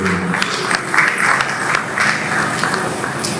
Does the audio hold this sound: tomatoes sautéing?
no